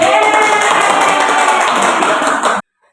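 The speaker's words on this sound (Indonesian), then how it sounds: "Mari berikan tepuk tangan untuk mendukung" A room of seated listeners at a school discussion for prospective teachers claps steadily in a loud, dense, close round of applause that ends abruptly.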